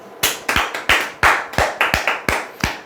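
An audience at a lecture claps, roughly eleven sharp, separate hand claps in an uneven rhythm, close and loud, with no talking over them.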